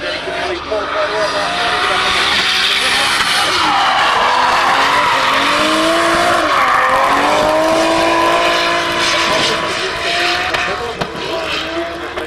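A turbocharged time attack race car at the World Time Attack Challenge 2012 screams around the track, its engine note rising and falling with squealing, skidding tyres, loud and close under a commentator's voice.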